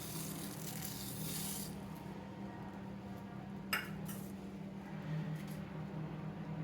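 Roasted vermicelli being stirred into milk for semiya payasam in a pot, a steady low scraping and rubbing with a few faint utensil clinks against the pot, continuous and close with no talking.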